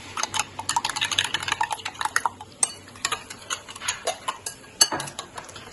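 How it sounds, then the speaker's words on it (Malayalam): Repeated scraping and clinking of a utensil working through a mixture in a bowl, irregular strokes close by with no talking. "നല്ലോണം മിക്സ് ചെയ്യാം"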